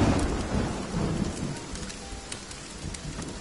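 Video game thunderstorm with heavy rain: a dense, steady downpour hiss with low rolling thunder rumbling underneath, loud and continuous with no talk.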